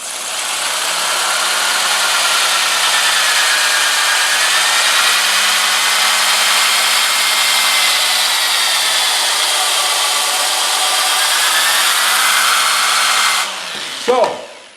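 A power sander works a wooden bowl on the lathe, giving a loud, steady whirring hum with a rising and falling drone that runs almost continuously before stopping abruptly at the end.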